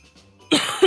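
A single sharp cough close to the microphone, coming suddenly after a near-silent stretch with faint background noise, followed by a second brief burst.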